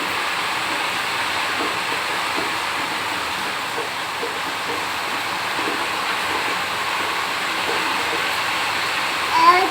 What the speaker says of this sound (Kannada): ನಮ್ಮ ಮನೆ ಹತ್ರ ಮಳೆ ಬರ್ತಾ ಇದೆ